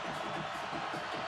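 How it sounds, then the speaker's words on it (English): BYU home crowd at a college football game against Utah in 2017, a steady roar of cheering from the packed stands that fills the whole stretch without any break. "BYU crowd really into it"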